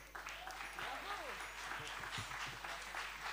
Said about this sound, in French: D'applaudir l'orchestre Urban Tempo,